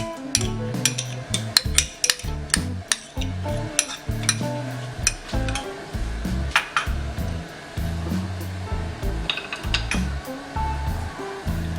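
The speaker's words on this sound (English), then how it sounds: "So first we'll take our ghee in the pan." Desi ghee goes into a pan and melts, with steady clinks and scrapes of a utensil against metal over a loud continuous sizzle-like hiss and background hum; no talking.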